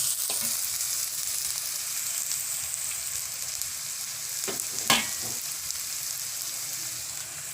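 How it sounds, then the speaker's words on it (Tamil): Curry leaves frying in hot oil for an aloo paratha potato filling, a steady soft sizzle with a few sharp scraping stirs of a spoon against the pan. "கருவேப்பிலையும் சேர்த்துருங்க. ஒரு கிளறிட்டு"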